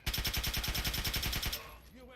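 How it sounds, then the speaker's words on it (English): Rapid submachine gun fire in Fallout 3, a steady close burst of about fifteen evenly spaced shots lasting over a second and a half, cut off before a voice speaks briefly. "Submachine gun."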